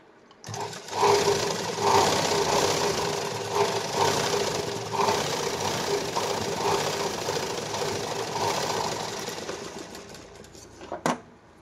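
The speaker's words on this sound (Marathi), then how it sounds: "आता याला लगेच मी डबल शिलाई मारून घेणार." A sewing machine runs double stitching through fabric and lining while joining a katori blouse, a loud steady mechanical whirr of rapid needle strokes that holds for about ten seconds before stopping abruptly with a final clack.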